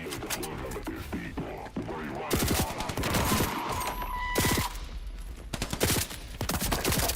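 Gunfire from a recoil-heavy weapon with tracking bullets in the video game Voidtrain, rapid bursts of shots crackling densely over a busy, continuous game soundscape.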